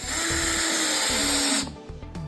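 Power drill running steadily to drive a fastener into a pottery seat, a loud continuous whir for about a second and a half, then stopping and followed by brief clicks and handling.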